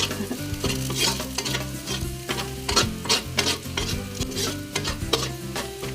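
Garlic, onion and ginger sauté in a pan, with a continuous loud sizzle and repeated scraping stir strokes in an uneven rhythm, close up and with no voices.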